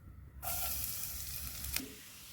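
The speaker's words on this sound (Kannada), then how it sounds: "ಬೆಣ್ಣೆ ಕರಗಿದ್ಮೇಲೆ ಬೆಳ್ಳುಳ್ಳಿ ಹಾಕ್ಕೊಳ್ಳೋಣ" Garlic drops into melted butter in a hot pan and starts a bright, steady sizzle. A brief crackle flares near the end before the frying settles into a soft, constant hiss.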